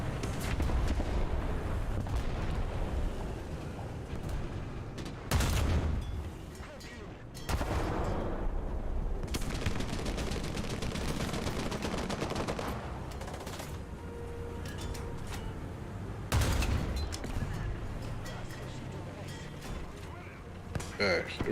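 Tank cannon fire in War Thunder, with heavy booming shots at irregular intervals over a steady roar of engine and battlefield noise, while someone talks throughout.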